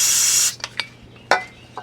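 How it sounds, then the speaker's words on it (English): Brake cleaner hisses from an aerosol can in one loud half-second burst during maintenance on a Kubota L3130 tractor, followed by a few faint clinks and taps. "Grab me the brake cleaner so I can spray her down."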